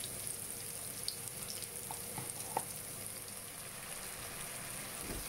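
Onions and chillies fry in a pan, a faint steady sizzle with a few soft clinks and taps of stirring, no voices.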